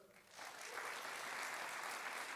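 An audience applauds at a hospital white coat ceremony: steady, dense clapping that swells after a soft start and carries on evenly, heard from within the room.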